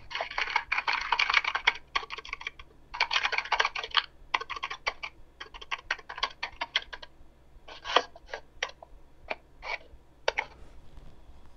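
Fingers type on a computer keyboard in rapid, close bursts of clicking with short pauses between runs, gradually thinning out toward the end.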